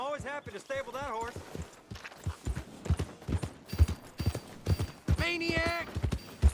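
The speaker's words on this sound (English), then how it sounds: "I'm always happy to stable that horse." Horse hooves clip-clop at a walking pace in the Red Dead Redemption 2 video game, with close, regular, moderately loud hoofbeats under bursts of a man's speech.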